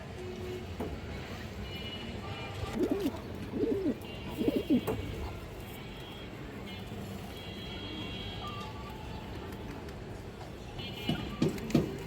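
Soft coos from Makra pigeons come in a few short bursts against a busy, noisy background, with faint voices now and then.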